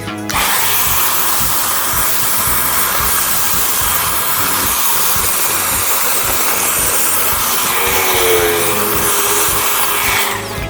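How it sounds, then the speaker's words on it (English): A small shop vac runs loud and steady the whole time, its roaring motor and hissing suction unbroken as it vacuums up a sticky spilled mess. "now it's time for my little shop vac."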